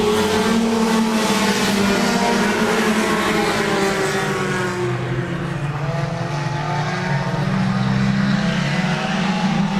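4-cylinder race cars roar around a speedway oval during a 20-lap feature event, a loud continuous engine drone with shifting pitch as the pack passes, the sound thinning slightly midway before swelling again.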